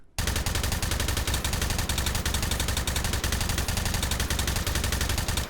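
M249 SAW machine gun in a VR shooting game, one loud uninterrupted automatic burst of rapid, evenly spaced shots that starts abruptly and runs for about five seconds with no talking.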